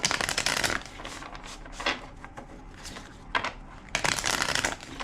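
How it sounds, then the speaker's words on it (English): A deck of tarot cards being shuffled by hand, several quick riffling bursts separated by short pauses, close and crisp in a quiet room. "2 more shuffles."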